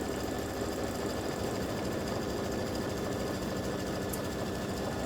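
An embroidery machine runs steadily, satin stitching in orange thread and then top stitching over it on a Halloween cowboy ghost patch, a continuous even mechanical whir with no talk.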